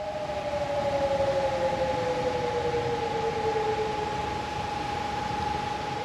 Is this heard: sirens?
yes